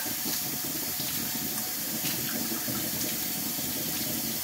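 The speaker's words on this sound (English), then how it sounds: "Rinse your hair and soap out." Tap water runs steadily while soap is rinsed out of hair, a continuous close splashing hiss with no voices.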